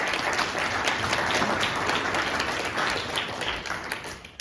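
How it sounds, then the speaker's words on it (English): Sustained audience applause fills the room after a performance act at a live event, a dense steady patter of many hands clapping close by that thins slightly toward the end. "and one more round of applause."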